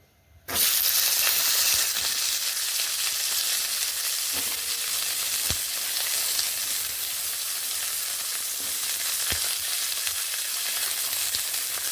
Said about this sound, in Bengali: এবার এখানে আমি শিম ও পটলগুলোকে ভেজে নেব